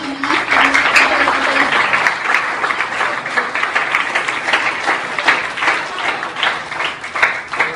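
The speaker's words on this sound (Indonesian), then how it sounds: "beri tepukan kepada rombongan UMS." Audience applause for a visiting UMS group at SK Kelombong school, a dense, loud wash of clapping sustained throughout, with a brief voice or tone near the start.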